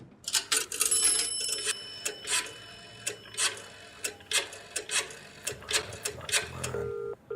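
A payphone is dialed as a radio-play sound effect: a quick run of sharp, evenly spaced clicks and button taps, then a brief electronic tone near the end, heard alone and close.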